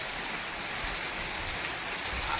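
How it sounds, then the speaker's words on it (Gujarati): Steady wash of heavy rain, broad and constant, close by with no voices and no breaks. "ભાઈ અત્યારે વરસાદ આવી ગયો ધોમ ધોકાર"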